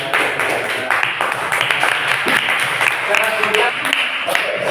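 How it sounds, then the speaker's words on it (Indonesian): Classroom of students clapping together for their teacher, brisk uneven hand claps in a nearby room, mixed with murmuring voices. "Tepuk tangan sama Ibu."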